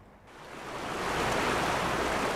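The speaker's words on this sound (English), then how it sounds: "the sound of the creek" Bear Creek rushing in the Colorado foothills after flash flooding, a dense, steady roar of fast water that swells in from near silence and then holds loud and close, with no voices.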